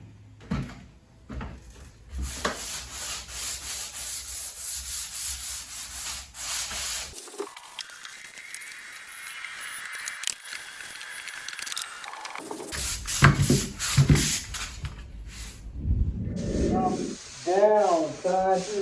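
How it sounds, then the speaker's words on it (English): Hand sanding of a surface being prepared for priming and painting, with repeated rubbing strokes coming in close bursts, a quieter scraping stretch in the middle, and brief knocks and handling noises near the end. "anything that needs to be sanded there, go ahead and sand that as well"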